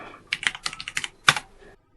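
Keystrokes on a SteelSeries 6Gv2 mechanical gaming keyboard with MX Black switches, showing some wear after two years, come as a quick close run of sharp clacks followed by one louder bottoming-out hit, then silence.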